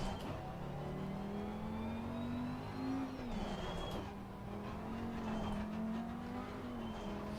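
A Ferrari race car engine in a racing video game set at Watkins Glen holds a steady high-pitched whine, pitch rising and falling with gear changes and throttle, accompanied by faint tire noise.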